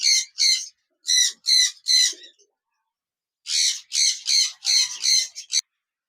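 A pair of budgerigars, a lutino red-eye male and an albino red-eye, give sharp harsh squawks close by: a quick burst of five calls, a pause of over a second, then a faster run of about seven, no talking.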